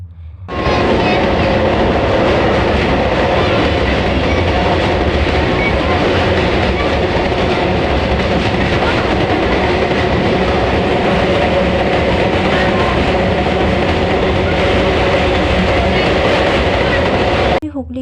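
A passenger train running steadily on rails, loud and continuous rumble with clickety-clack from inside or right beside the carriages, lasting the whole stretch without a break.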